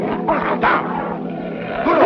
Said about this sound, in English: That's a real fine bear dog you got there